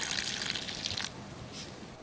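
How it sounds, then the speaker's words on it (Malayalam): Butterfly pea flower water poured into melted soap base for homemade soap: a close, steady trickle for about a second that then stops, leaving quiet room tone. "അതിലേക്ക് ശംഖുപുഷ്പത്തിൻ്റെ വെള്ളം ഒഴിച്ചു കൊടുക്കണം"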